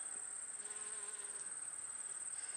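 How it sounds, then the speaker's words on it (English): Insects buzz steadily by red clover beside a Minnesota cornfield in late August, a continuous, faint, thin hum with no voices. "You can hear the honeybees"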